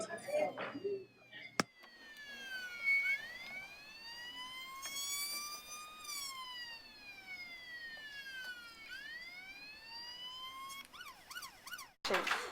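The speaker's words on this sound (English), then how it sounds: "As the ambulance approaches the people, the sound gets louder." An ambulance siren wails, sweeping up and down repeatedly, its pitch bending with the Doppler effect as it draws near and passes, loud and continuous against faint background noise.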